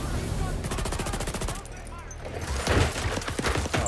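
Rapid automatic gunfire in a shooter video game, a dense stream of sharp shots that pauses briefly and then resumes in heavier, louder bursts, close and prominent.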